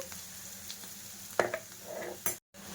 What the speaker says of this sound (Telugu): లైట్ గోల్డెన్ కలర్లోకి వచ్చినంత వరకు అయితే ఈ ఆనియన్స్ ఇలా ఫ్రై చేసుకోవాలండి